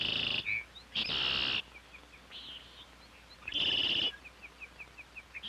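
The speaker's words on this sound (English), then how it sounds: "And sometimes those birds would sing." Birds sing outdoors with bright repeated chirps and short phrases, interrupted by a couple of loud, sustained bursts of shrill calling, in a quiet open setting.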